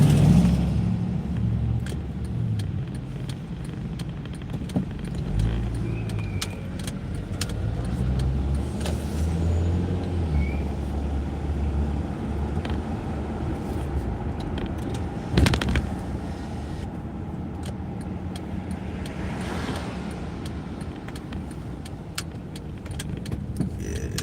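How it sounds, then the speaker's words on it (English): A car rolls down a residential block, its engine and tire noise a steady, fairly quiet rumble from inside the cabin, broken by a few sharp clicks and rattles. "So I'm gonna drive down that block real quick before we leave."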